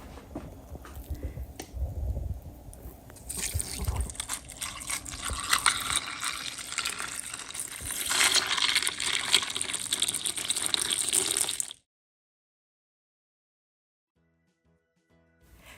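Ice poured into a glass of walnut horchata topped with roasted pecans, a loud rattling, splashing rush that builds over about twelve seconds, then stops abruptly into near silence.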